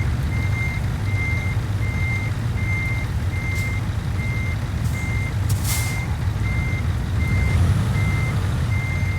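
Reversing alarm on a truck in the Euro Truck Simulator 2 video game, a steady string of evenly spaced beeps over a constant low engine rumble, with a couple of brief hiss bursts near the middle.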